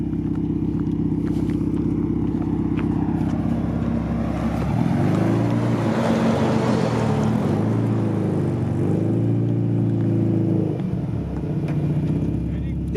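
A 1995 Honda Civic with a B16A engine, Jackspania N1 3-inch muffler and Trubendz piping, launching hard: loud steady engine drone rising into a revving, wavering exhaust roar mid-clip, then easing off, close by.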